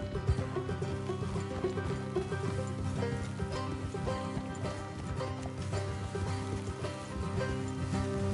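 Horse hooves clip-clop steadily in a PS4 game while riders travel along a road, mixed with a dense, busy bed of music and ambient game sound, with occasional whinnies.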